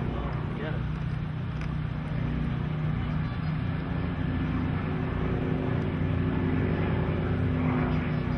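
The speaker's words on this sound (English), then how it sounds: "You just hear them cranking up the speed there as the wind goes over that airframe." An aerobatic airplane at a country air show builds speed in a continuous, broad engine drone with wind rushing over the airframe, heard from a distance with indistinct voices in the background.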